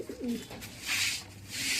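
Breeding pigeons of a Madrasi-type fancy breed coo softly up close, a few low rolling calls with a brief rustle between them, and no talking.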